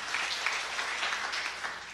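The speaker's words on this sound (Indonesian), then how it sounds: "Tepuk tangan yang meriah bagi Tuhan itu." Lively applause from a church congregation, a steady wash of many hands clapping at once, sustained and fairly even through the short moment with no voices on top.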